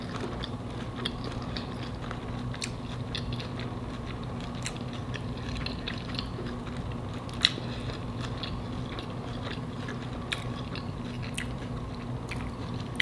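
Homemade fried coconut shrimp being bitten and chewed gives faint, scattered crunches over a steady low background hum, with no talking.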